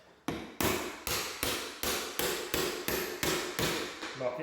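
Trim removal tool being hammered in behind a painted baseboard, about ten sharp, evenly spaced knocks roughly every half second, close and loud with no talking.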